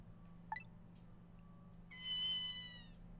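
A kitten meows once in the Ghost Trick video game, a clear, bright, slightly drawn-out cry near the end, with a short chirp-like sound earlier over a low, steady background hum.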